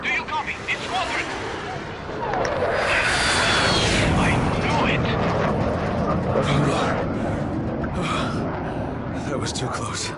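A fighter jet in Dying Light roars overhead and bombs a tower, a loud rushing sweep that swells and then trails into rumbling debris, with people talking over parts of it.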